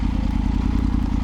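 A Triumph Tiger 900 Rally motorcycle engine idling nearby, a loud low throbbing rumble that stays steady throughout.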